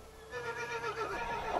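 Icelandic mares and foals whinnying in a busy, overlapping chorus, several high neighs rising and falling close by, with faint hoof clatter underneath.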